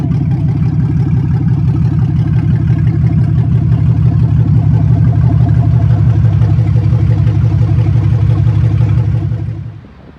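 A catless 4.3 liter V6 holds a loud, raspy idle-to-rev rumble close to the exhaust for about nine seconds. The tone stays steady and clattering, then dies away quickly at the end.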